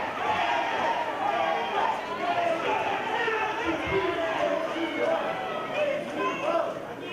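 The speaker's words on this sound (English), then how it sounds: "Crowd enjoys it." Wrestling crowd at a live pro wrestling event, a steady dense roar of cheering and chatter that holds loud throughout with no single voice standing out.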